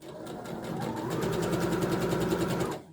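A domestic sewing machine stitches a dart on a blouse, running in a steady fast whirring rhythm for nearly three seconds, close and clear, then stopping abruptly.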